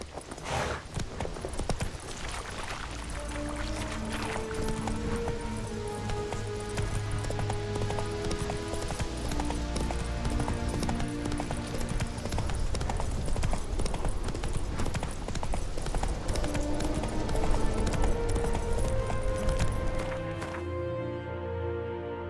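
A horse gallops in The Witcher 3: Wild Hunt, with rapid, rhythmic hoofbeats running steadily under the game's music and continuing until the last moments.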